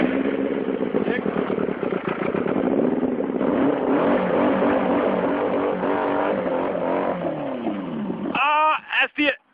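A homemade go-kart powered by a 70 hp XJ 600 motorcycle engine runs loud and close, its pitch climbing and falling as it revs steadily for about eight seconds before the note cuts out sharply.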